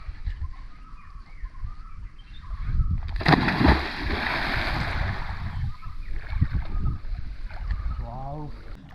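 A person jumps into a natural-water swimming pool at a mountain resort in Wayanad, making a loud, broad splash about a third of the way in, followed by churning and sloshing water, with voices around it.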